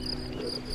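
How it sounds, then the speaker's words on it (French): Crickets trill outdoors in a steady, high, continuous chirping, close and fairly loud, with no voices over them. "Et puis vous entendez maintenant, il chante là-dedans. Les grillons."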